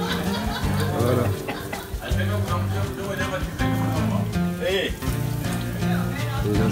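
Chips, chicken and bananas frying in hot oil at a local food stall, a continuous crackling sizzle under lively talk and background music.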